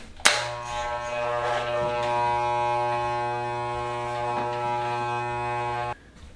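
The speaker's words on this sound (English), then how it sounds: "from using a set of clippers at its longest lever length with no attachment" Electric hair clippers run without a guard attachment, a steady close buzz that clicks on, hums evenly for several seconds, then clicks off.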